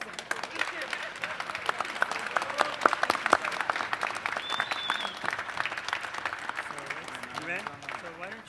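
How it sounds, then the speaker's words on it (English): A round of applause from the audience at a welcome reception in an auditorium, moderate and fairly faint clapping that carries on for several seconds with voices mixed in. "the round of applause also?"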